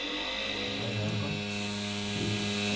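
A violin is exposed to steady tones for vibration relaxation seasoning, a continuous loud electronic hum with layered sustained tones and faint buzzing, no talk.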